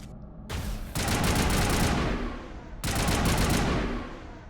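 Sustained machine gun fire from a Mass Effect video game, two long loud bursts of rapid rounds separated by a brief gap, with no talking over them.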